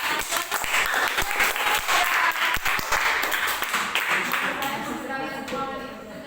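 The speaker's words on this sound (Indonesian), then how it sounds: "Kita berikan tepuk tangan kepada" Dense applause from a student audience in a classroom presentation, loud and sustained, many hands clapping at once before tapering off toward the end, with voices mixed in.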